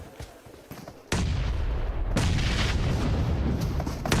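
A grenade blast in PUBG Mobile during a World Cup esports match: a quiet stretch breaks into a sudden loud boom at about one second, followed by sustained rumbling explosion noise that swells again near the two-second mark and continues to the end.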